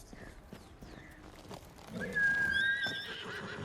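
A horse in Ghost of Tsushima whinnies loudly and clearly in a rising, drawn-out call, preceded by soft hoof clops and quiet background sounds.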